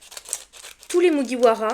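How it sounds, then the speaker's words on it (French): Scissors snip and crinkle through the foil wrapping of a One Piece OP05 card pack, close and crisp, followed by a person talking over the last part. "Avec les ciseaux, j'ai eu un peu peur"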